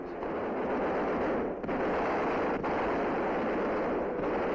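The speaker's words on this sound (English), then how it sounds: "Gunners beating off enemy planes." Heavy wartime gunfire from aircraft gunners firing machine guns at enemy planes during a 1943 Allied bombing raid on an Axis submarine base and airdrome, a dense, continuous loud roar with brief dips, no speech.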